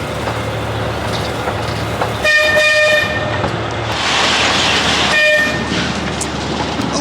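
An amusement park train at Blackpool Pleasure Beach rumbles and clatters steadily along the track, with a couple of brief horn-like tones sounding over the continuous running noise.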